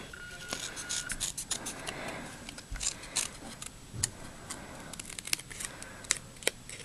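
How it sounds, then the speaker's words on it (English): Small micro-tip scissors fussy-cut paper in quick, irregular little cuts, close and quiet, with soft rustling between the snips. "our micro tip scissors are perfect for fussy cutting"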